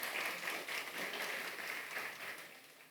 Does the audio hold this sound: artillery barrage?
no